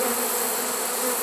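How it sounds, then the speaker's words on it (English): A bee swarm flies around a swarm trap, giving a dense, continuous hum of many wings that is loud and close, with no voices. "It's amazing when you stand in the middle of these bees that are coming"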